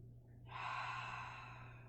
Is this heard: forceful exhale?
yes